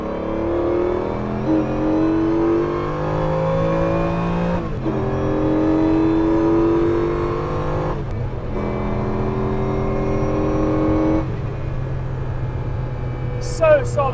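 A Porsche 911 GT sports car at Dunsfold's mile straight, its engine droning steadily with a layered harmonic whine that shifts pitch through gear changes, heard from inside the cabin under a faint voice.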